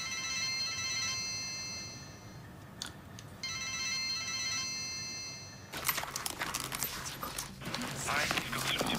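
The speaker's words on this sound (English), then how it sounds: "The phone." A telephone rings indoors in two long, steady electronic bursts separated by a short pause, followed by a busier, noisier stretch of room sound.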